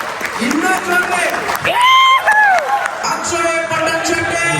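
Audience applause and cheering at a Kannada standup comedy show in Hubballi, a sustained crowd wash of clapping running under a host's voice calling out over it.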